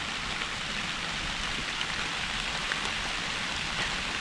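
Rain falls in the woods, a steady, soft hiss of drops on leaves and ground, fairly faint and continuous, with occasional slightly louder drip patters and no voices.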